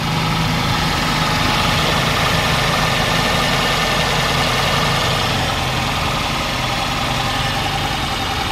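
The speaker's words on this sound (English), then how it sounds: "We have other vehicles running around here." Vehicle engines idle and run around a salvage yard with a steady, loud, unbroken rumble and faint knocking, near and continuous with no speech.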